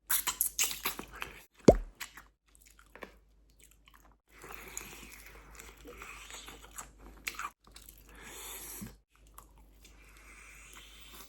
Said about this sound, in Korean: 맥도날드 감튀는 그냥 먹어도 맛있어